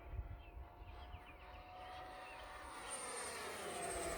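An E-flite F-16 Falcon 80mm electric ducted-fan RC jet whooshes past with a steady, airy roar that swells louder toward the end, heard at a distance outdoors.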